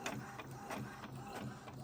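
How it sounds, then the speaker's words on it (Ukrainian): An inkjet printer making a copy while powered from a BLUETTI EB70 charging station, giving a steady close mechanical whir with rhythmic pulses of the print head sweeping back and forth, heard alone. "в той час, як працює принтер і робить нам копію"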